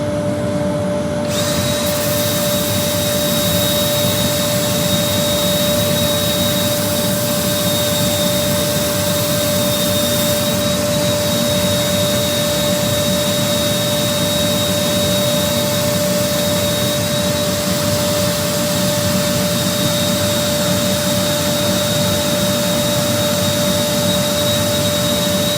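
Abrasive sanding at 240 grit on a cherry root ball hollow form spinning on a wood lathe, a steady, loud, continuous whir and hiss with a constant motor whine held throughout, no talk.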